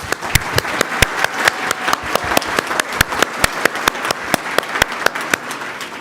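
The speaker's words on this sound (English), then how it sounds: "So one last giant round of applause, please." A community awards audience gives a round of applause, the clapping thinning to a fairly sparse, regular pattern of distinct individual claps close by, steady throughout.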